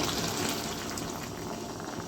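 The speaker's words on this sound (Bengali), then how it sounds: "বন্ধুরা এখানে জল দিয়ে দিচ্ছি" Water poured into a pan of banana flower and prawns, a steady close gushing and bubbling wash that fills the short moment without a break.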